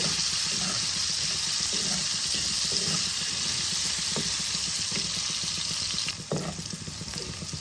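Potatoes frying in oil in a pan, a steady close sizzle with occasional scraping stirs and a sharper clatter near the end, no voices.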